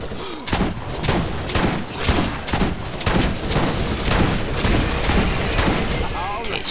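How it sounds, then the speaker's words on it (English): Shotgun blasts in Borderlands go off in a steady, loud series roughly every half second, each a sharp, booming crack over a constant background of game noise, with voices talking throughout. "Taste shotgun to the face"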